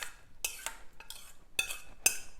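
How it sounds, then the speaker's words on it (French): Textured soy protein being tipped into a salad bowl and stirred for vegan meatballs, heard as a few quiet dry rattles and utensil clinks against the bowl, in short separate bursts with no talking. "Je vais ajouter mon soja texturé dans mon saladier."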